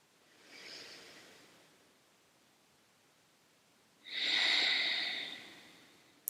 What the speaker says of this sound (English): 5 full breaths.